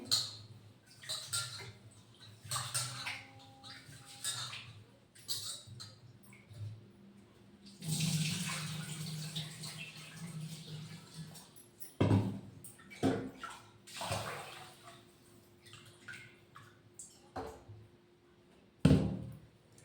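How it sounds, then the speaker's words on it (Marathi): Rice is rinsed with hot water in a vessel, giving intermittent splashes and swishing pours in short bursts, fairly quiet overall with a longer stream of running water midway. "छान गरम पाण्याने तांदूळ धुवून टाकत आहे."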